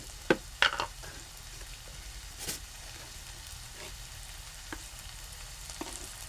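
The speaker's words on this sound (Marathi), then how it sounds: "परतत आहे कांदा टॉमॅटो जरा शिजायला हवा चांगला" Onion and tomato with salt sautéing in a pan, a soft steady sizzle broken by a few sharp spatula knocks and scrapes near the start and scattered stirring clicks later.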